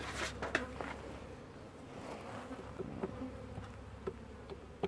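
Honeybees buzz in a steady low hum nearby at their hive, with occasional individual insects flying close past.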